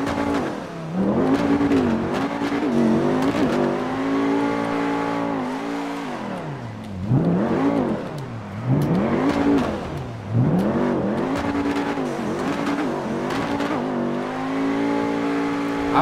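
A work pickup truck's engine revs in GTA roleplay, rising and falling in repeated surges over a steady loud drone with no talking.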